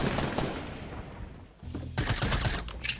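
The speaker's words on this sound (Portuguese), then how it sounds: "Alguém atirou nele." Rapid bursts of Fortnite gunfire crack close and loud, a brief lull in the middle giving way to fresh volleys of shots.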